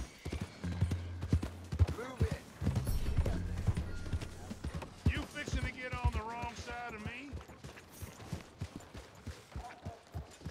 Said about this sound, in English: you're just galloping along a little too quick